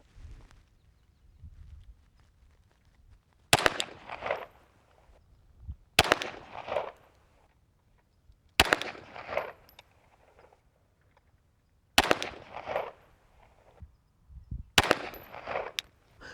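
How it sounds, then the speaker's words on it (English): Five sharp, loud pistol shots from a Glock 34 firing Freedom Munitions 147 grain open tip match ammunition at an outdoor range, evenly spaced a few seconds apart, each followed by a short ringing decay. "we're at 25 yards, Glock 34 with the Freedom Munitions 147 grain open tip match. We're gonna go 5 rounds, center mass of our target"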